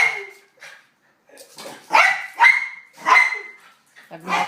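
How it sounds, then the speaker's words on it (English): A female dog barks in short sharp bursts at close range, about four or five barks with gaps between them and some yipping. "Obnoxious dog."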